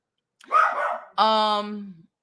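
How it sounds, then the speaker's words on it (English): A dog barks indoors during a spoken commentary, giving two quick loud vocal bursts close by, the second a longer, tonal, whining howl. "Shut up, dog. I don't know why he keeps going crazy."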